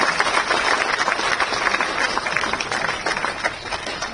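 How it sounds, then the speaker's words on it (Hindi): Loud, dense applause from a crowd at an official appointment-letter ceremony, steady clapping sustained throughout with a faint voice beneath. "जोरदार तालियां, तालियां कमजोर नहीं होनी चाहिए"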